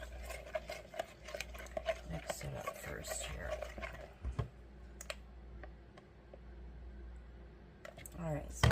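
Melted melt-and-pour soap being mixed in a container makes light scraping and clinking taps that come in bursts, moderately close, with a few sharper knocks and some quiet talk.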